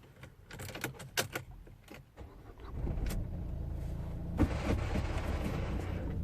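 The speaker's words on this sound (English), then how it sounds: "It's gonna start the van." Engine of a 2014 Renault Trafic van cranking and starting with the clutch pressed, some clicks and key rattles first, then a steady close idle rumble settling in.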